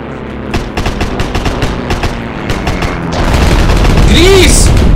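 A grease gun submachine gun fires in the video game Heroes and Generals, rapid bursts of close gunfire with a louder sustained volley near the end, mixed with in-game effects.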